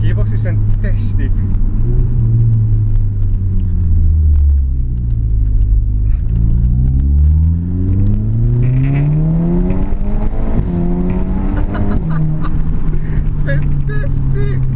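An Audi TTS with a DSG gearbox accelerates hard, its loud engine climbing through the revs, dropping briefly at each quick gearshift and rising again, with a person talking excitedly throughout.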